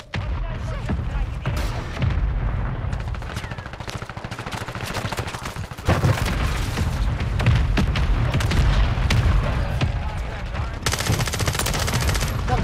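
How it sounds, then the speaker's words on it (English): Mortar strikes and heavy gunfire in a Call of Duty match, with repeated booming blasts and dense rapid shots running throughout, loud and close, ending in a sharper burst of fire. "I'll put a mortar on him"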